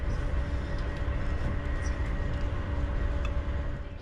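Steady, even rumble of a German high-speed train running at speed, heard from inside the carriage, with a constant low hum and faint rattles throughout and no talking.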